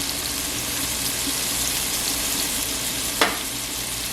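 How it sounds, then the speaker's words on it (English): Saltfish frying in a pan with seasoning and black pepper, a loud steady sizzle and crackle filling the whole clip, with one brief scrape of stirring near the end. "and let this fry"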